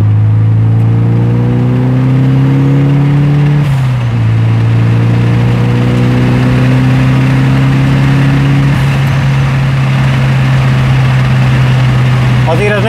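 A Nissan Silvia engine revs while driving, loud and close, its steady drone climbing in pitch, dropping at a gear change, then holding a high, even note.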